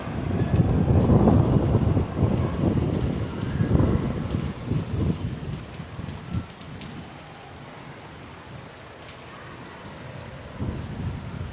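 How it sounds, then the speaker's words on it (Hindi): Heavy rain pours steadily in Karachi during a thunderstorm, loudest at first and then easing slightly, with low rumbles underneath and no voices. "ये बहुत ज़्यादा काफ़ी तेज़ बारिश जो है यहाँ पर हो रही है इस वक्त।"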